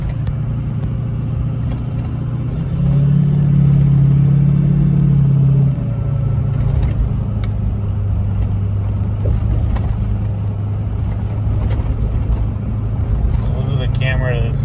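Turbocharged car engine pulling under boost up to nearly 10 psi, a loud close droning rumble that swells and holds for a few seconds, then settles into a steady hum.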